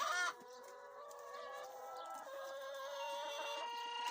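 Chickens clucking and murmuring together in a coop without nest boxes, a soft, steady chatter of several birds, fairly quiet and continuous throughout.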